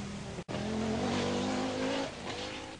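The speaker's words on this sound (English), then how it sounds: "going well despite a sick engine, is Harold Demuth in his Audi Quattro" An Audi Quattro rally car with a sick engine races a stage of the 1984 Circuit of Ireland Rally, its engine roaring loud and close as it revs, with a brief cut near the start and a pitch that shifts as it passes.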